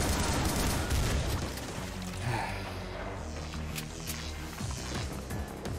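Video game gunfire in a rapid fusillade of shots with booms, loud and continuous over a dense battle mix, a voice faintly present beneath.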